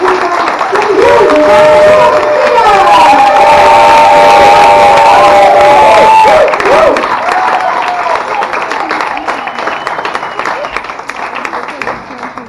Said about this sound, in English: let's have a really big round of applause. Let's start clapping.